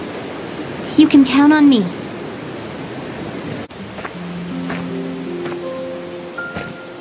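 Steady rain hisses in the video game Tower of Fantasy, a continuous wash beneath characters speaking and soft sustained musical tones.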